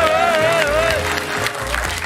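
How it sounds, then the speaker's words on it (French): Applause at the opening of a lighthearted awards ceremony fills the whole clip as a steady, loud crowd wash, with a clear high tonal line, like a whistle or sung note, wavering above it. "Applaudissements."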